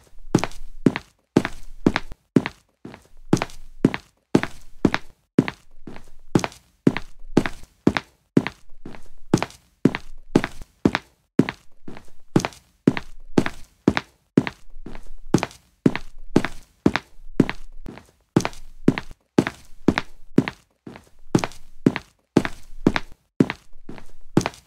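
Heavy footsteps thudding steadily across a floor toward a bedroom, a regular rhythm of loud, close thumps that continues without pause and without talking.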